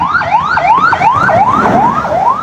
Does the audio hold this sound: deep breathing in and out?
no